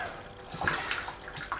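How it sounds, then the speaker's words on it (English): Half a litre of water poured into a container for a homebrew dark ale with golden syrup, a short splashing gush over a bit more than a second, close and moderately loud. "I'm just going to put half a litre of water in that."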